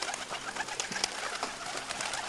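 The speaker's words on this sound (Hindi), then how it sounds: "सब कबूतर एक साथ एक दिशा में एक गति से उड़ चले" Pigeons in a flock take off together, soft wing flutters and a few coos mixed with busy outdoor bird chatter, steady and fairly close.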